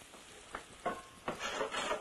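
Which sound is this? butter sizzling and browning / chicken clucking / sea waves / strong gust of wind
butter sizzling and browning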